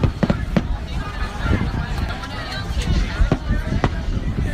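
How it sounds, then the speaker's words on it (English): Fireworks crackle and pop in quick irregular bursts, fairly loud and close, while a person talks over them. "Those are some good fireworks."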